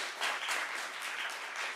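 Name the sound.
applause at a city council meeting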